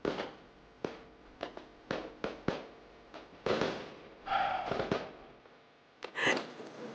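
Fireworks bursting at a distance in a rapid uneven series of sharp cracks and dull booms, some overlapping, with a rumbling tail between blasts.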